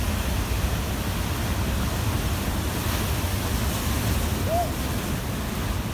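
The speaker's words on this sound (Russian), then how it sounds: "смотри, какая волна здоровая" Heavy Atlantic Ocean surf crashes on rocks nearby, roaring continuously in a dense, loud wash of crashing water with no voices.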